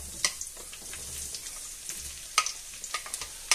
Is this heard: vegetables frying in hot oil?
yes